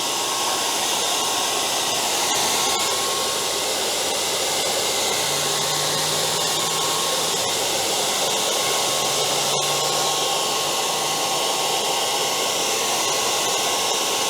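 A heat gun blows steadily and loudly on double-sided tape on a visor for a 1997 Honda Civic Hatchback, an unbroken whooshing hum throughout.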